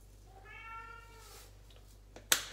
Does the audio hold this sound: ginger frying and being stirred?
no